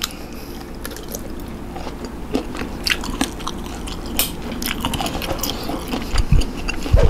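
Someone chews crunchy, springy tako octopus tentacle close to the microphone, with repeated wet crunching bites and jaw clicks in an irregular rhythm and no talking.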